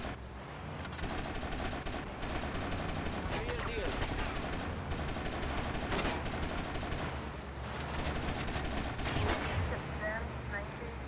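Sustained gunfire from Grand Theft Auto: Vice City, with dense, rapid shots and bursts running nearly the whole time, loud and close, layered with game sound effects and voices.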